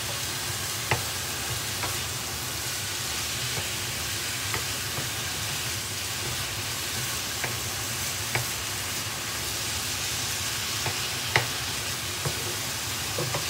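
Mince sizzles loudly over very high heat with garlic, ginger and spring onion, a steady dense frying hiss close up, broken by occasional faint clicks of stirring.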